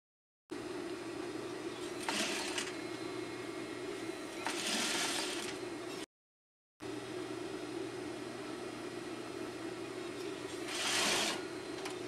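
A sewing machine stitches a pocket in two steady, even runs, its motor whirring loud and close with a brief pause between them.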